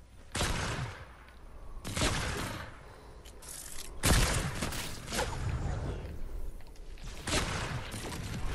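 Gunfire in an Avengers video game, several heavy bursts of shots and booms spaced a second or two apart, with a sustained roar between them and no clear talk.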